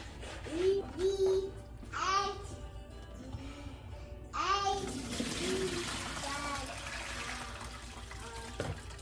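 Black-eyed beans are swished and rubbed by hand in a bowl of water, with sloshing and trickling splashes in short bursts, then a steadier wash of water; close and fairly quiet.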